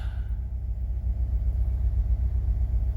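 Honda H22A engine idling in a wagon, a steady low rumble holding even and close without any revving.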